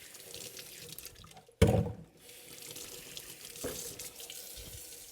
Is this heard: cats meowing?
no